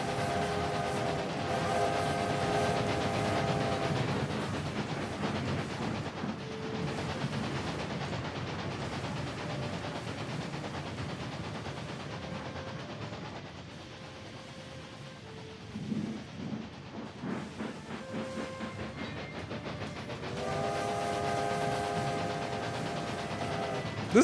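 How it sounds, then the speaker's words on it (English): Trains rumbling through a video game world, a steady low rolling roar with tonal hums, a quieter stretch in the middle, then the rumble returns near the end. "I was hearing trains"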